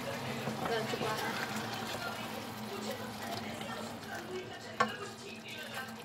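Mutton and spinach curry bubbles and spits in a pot with a soft, steady frying crackle and one sharper pop, largely under someone talking.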